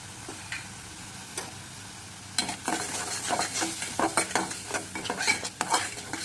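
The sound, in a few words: poppy seed and green chili paste frying in a pan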